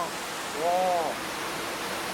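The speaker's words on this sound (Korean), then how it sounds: "가까이 오니까 물소리가 더 진짜 극하게 들리네" A waterfall at Shangri-La Hotel Singapore, heard close by as a steady, broad rush of water that fills the whole scene, with a brief voice calling out over it partway through.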